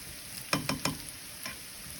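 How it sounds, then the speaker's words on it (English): Tortillas fry in a pan under a steady low sizzle, with three quick scraping stirs close together near the middle and a softer one shortly after. "stir for a little while until the tortillas are brown"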